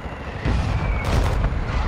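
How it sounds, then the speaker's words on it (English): Mortar strike explosions in a video game: a deep, booming blast hits about halfway through and rolls on as a loud, sustained rumble to the end. "Mortar strike on the way."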